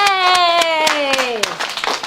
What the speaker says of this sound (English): Let's stand and give them a big round of applause.